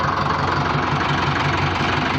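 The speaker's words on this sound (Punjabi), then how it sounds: "ਕੱਢ ਰਿਹਾ ਟਰੈਕਟਰ ਬਾਹਰ ਜੋੜ ਦੀ ਟਰੈਲੀ ਤੇ ਚੱਲੀਏ" A tractor engine idles steadily as it is driven out on a farm, a continuous loud low rumble with a faint regular knock throughout and no voices.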